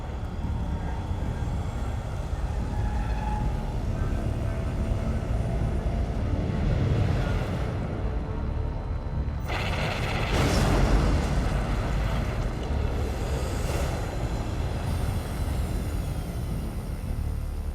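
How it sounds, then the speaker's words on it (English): A ship's bombing run in the video game Metroid Prime 3: Corruption: a steady, engine-like roar swells into a heavier rumbling blast about two-thirds of the way through, with no voices. "here what we actually need to do is command our ship to do a bombing run"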